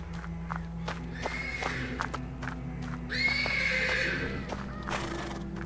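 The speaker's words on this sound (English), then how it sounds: "The persistent neighing of a horse can be heard from the stables." A horse neighs and whinnies persistently from a stable in a video game, with long whinnies over a steady low hum, muffled hoof clops and shuffling steps, and faint background voices.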